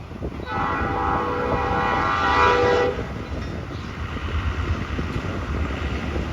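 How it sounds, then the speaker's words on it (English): A Norfolk Southern freight train rumbles past on a rainy evening with a steady, loud roar and a sustained horn-like tone in the first half, easing into continuing wheel and track noise. "We got a train, guys."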